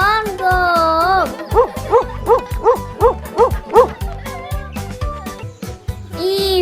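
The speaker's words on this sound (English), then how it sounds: "D for dog." A dog gives a quick run of about eight rhythmic yapping barks over a playful children's rhyme beat, with a spoken voice before and after.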